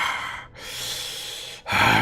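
A human voice imitates a monster's heavy breathing during a Dungeons & Dragons session, two long, loud, rasping breaths drawn in close to the microphone, with a short pause between them.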